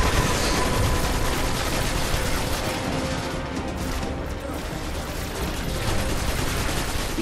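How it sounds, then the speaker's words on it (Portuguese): Heavy machine gun in Destiny: Rise of Iron, dense continuous automatic fire with mechanical rattling and crashing impacts, loud and unbroken throughout, with faint speech underneath. "Uma metralhadora ali escrotona"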